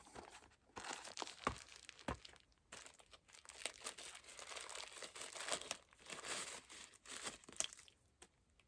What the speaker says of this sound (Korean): 구성품 이렇게 왔고, 하나하나씩 뜯어볼게요